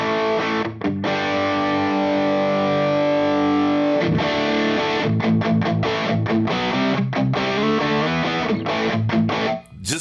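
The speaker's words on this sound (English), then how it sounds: "I swear this has got some sort of a ducking thing that while you're playing, it kind of, there's a gate or something in it" An electric guitar played through a HangmanFX distortion pedal with a gate produces thick, sustained distorted chords. Abrupt gated cutoffs chop the sound between strums, and the playing is loud and close throughout.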